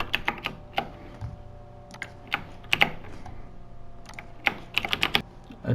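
Light keyboard clatter as a name is typed on a computer, irregular clusters of soft keystrokes with short pauses between them, close and fairly quiet over a faint background hum.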